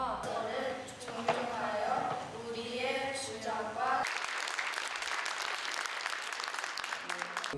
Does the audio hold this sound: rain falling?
no